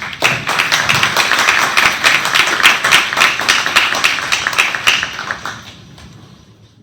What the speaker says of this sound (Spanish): les pido que me acompañen con un aplauso a recibirlo